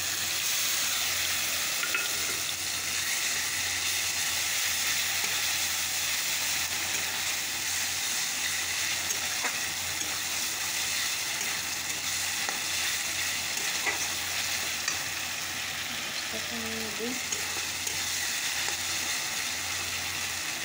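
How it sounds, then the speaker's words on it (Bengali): A spice paste with turmeric fries in a pan for a potato dish, producing a loud, dense and continuous sizzle with a hissing edge. It is close and steady for the whole stretch, with no talking. "তো চলো মশলাটাকে কষিয়ে নিই।"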